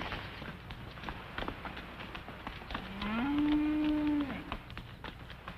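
A single cow lows once, a drawn-out moo near the middle, heard in an outdoor ranch corral setting over a noisy background.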